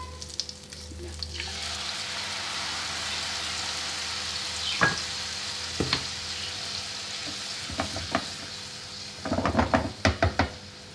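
Chicken manchurian sizzling in a pan after tomato paste goes in, a steady frying hiss with a few sharp stirring scrapes and knocks of a utensil against the pan, clustering near the end.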